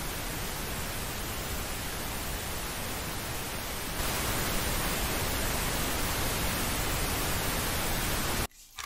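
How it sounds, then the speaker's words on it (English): Pink noise played for sleep: a steady, dense, broadband hiss with a slight step up in level partway through, continuous and unbroken before cutting off abruptly near the end. "10 hours of ping noise."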